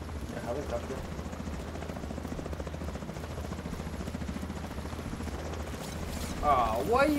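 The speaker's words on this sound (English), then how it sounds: "helicopter." A helicopter in the video game The Division 2, on Roosevelt Island, thrums as a steady low rotor drone throughout, with brief game noises and voice-like sounds rising near the end.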